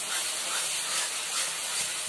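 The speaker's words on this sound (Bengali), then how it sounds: "এগুলো দিয়ে ভালো করে নেড়ে চেড়ে নেব" Spices for a coconut pickle (narkeli achar) being stirred and fried in oil, giving a steady, loud, continuous hiss-like sizzle with no pauses and no talking.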